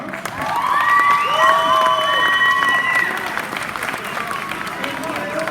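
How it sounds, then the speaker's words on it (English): Enthusiastic applause and cheering from a graduation ceremony crowd, steady clapping mixed with shouts and whoops that swell early and then taper slightly, with an amplified voice carrying over the crowd. "Please give her another round of applause."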